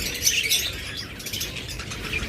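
Short burst of high, busy chirping from Fischer's lovebirds in parblue and albino pairs, a steady twittering chorus close by with no voices.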